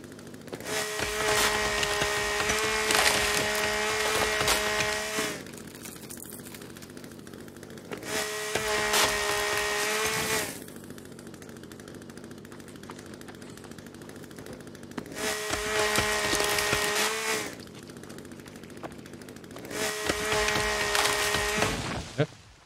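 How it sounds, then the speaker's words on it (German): A chainsaw cuts wood in the survival video game The Forest, coming in four loud, harmonic bursts of several seconds each, separated by quieter gaps of idling engine. "So, dann wieder die Kettensäge."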